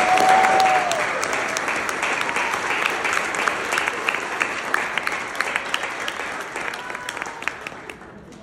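Loud, dense audience applause congratulating Callie Francis at the Ashland Woman of Achievement event, a steady wash of many hands clapping that tapers slightly toward the end.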